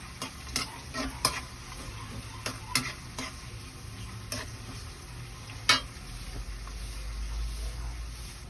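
Garlic and onion sauté with shrimp paste (bagoong alamang) in a pan, giving a steady low sizzle with scattered scraping clicks of a utensil stirring against the pan, plus one sharper knock near the end.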